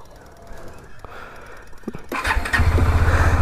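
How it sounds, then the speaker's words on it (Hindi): A Bajaj Dominar 400 motorcycle cranks and fires into a steady, close idle that warms up, following a few quiet clicks and a gasping breath. "तो फिर चलिए बाइक को थोड़ा सा वार्म अप कर लेते हैं"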